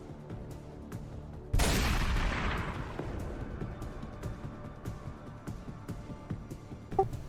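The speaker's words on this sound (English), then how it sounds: "You will hear an even more distant gunshot this time." A distant gunshot in a Dark Heresy game scenario booms once, then decays into a long rolling echo over a quiet background.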